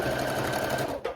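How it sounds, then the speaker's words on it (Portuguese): Sewing machine stitching closed the back seam of a viscose midi dress, with a fast, steady mechanical whir close up that cuts off abruptly at the end. "eu vou fazer a costurinha aqui, fechando a parte das costas agora"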